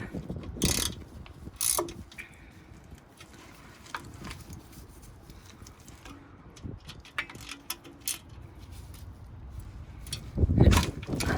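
A ratchet gun snugs down the cylinder head bolts on a Ford Fiesta Mk6 engine, with sharp clicking bursts at the start and end and quieter mechanical ticks and handling noises between them.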